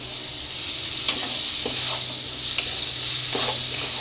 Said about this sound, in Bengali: এবার আমি এগুলোকে দিয়ে ভালো করে কষিয়ে নেব।